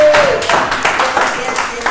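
Church congregation clapping and applauding in quick, steady bursts of hand claps over two seconds, loud and close, mixed with overlapping voices.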